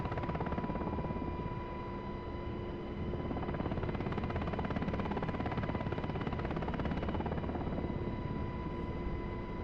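A helicopter in the DCS World flight simulator video game roars with a dense, steady rotor and turbine wash, loud and continuous throughout with a faint high whine on top and no speech.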